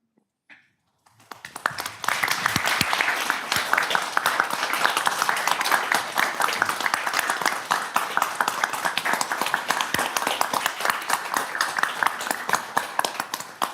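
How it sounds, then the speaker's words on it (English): Applause at a city council meeting after a Purple Heart recognition, a dense, steady crowd of clapping hands filling the room for about twelve seconds before thinning out. "Applause, we're not done yet"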